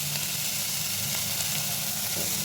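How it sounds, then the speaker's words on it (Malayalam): Chopped onions and salt sautéing in a pan for green pea curry, giving a steady, close, loud sizzle and hiss throughout with light stirring and no talk. "ഉപ്പ് നന്നായിട്ട് നമുക്കൊന്ന് വഴറ്റാം"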